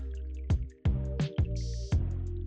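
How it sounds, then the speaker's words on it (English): A quarter cup of apple cider vinegar goes into a bowl, making a few short, close splashy drips and trickles in quick succession while soft music plays underneath. "to a bowl we're going to add 1/4 cup of apple cider vinegar"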